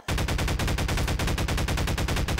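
Rapid automatic gunfire in Garry's Mod on a horror map, a loud, continuous stream of evenly spaced shots close up with no gaps.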